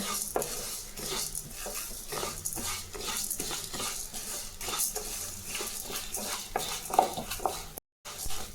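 Whole spices and dried red chillies being dry roasted and stirred in a pan for a Tamil kara kuzhambu spice powder, with steady scraping and rattling of a spoon against the metal throughout, close and continuous, no talk.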